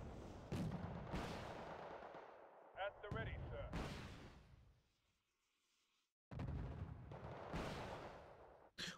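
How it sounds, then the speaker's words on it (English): Cobra attack helicopter firing its weapons in the battlefield video game Wargame: Red Dragon, a series of sharp, booming bursts and rattling volleys in quick succession, broken by a short quiet gap before the shots resume. "it's a Cobra firing"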